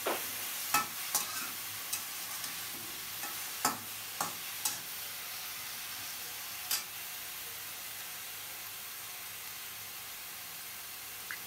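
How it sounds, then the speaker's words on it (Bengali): Katla fish curry sizzles in a pan as it is stirred, with a steady frying hiss broken by a few sharp scraping clicks of the spoon, close by and with no voices. "আবার একটু নেড়ে দিচ্ছি"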